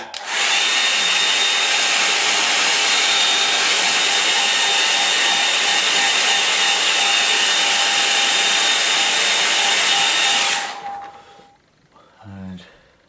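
A hair dryer blowing on a watercolour painting of a woody glade runs as a loud, steady whooshing roar with a faint whine for about ten seconds, then cuts off, leaving a brief low rumble after it.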